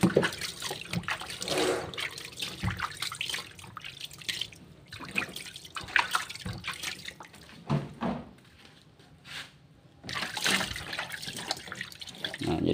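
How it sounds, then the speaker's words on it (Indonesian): Tegu lizards being soaked and bathed together in water, with splashing, dripping and sloshing that carries on almost continuously, broken by a brief quieter gap. "Jadi biar akur ya, kita rendam bareng, kita mandikan bareng teman-teman."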